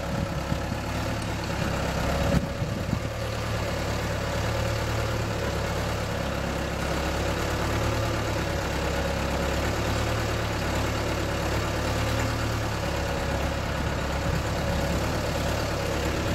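A Bobcat 853 skid steer loader engine idles steadily at close range for the whole stretch, a constant low rumble with a faint mechanical whine on top.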